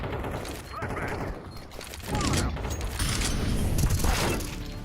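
Flashbang grenade in a Counter-Strike match, with a dense burst of gunfire, clattering and sharp bangs that stays loud and busy throughout, and a voice faintly mixed in.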